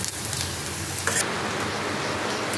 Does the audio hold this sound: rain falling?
yes